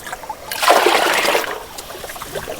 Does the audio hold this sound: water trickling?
yes